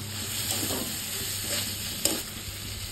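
Potatoes and spice paste sauté in a pan for a rui fish aloo jhol, giving a close, steady sizzle broken by scraping stirs.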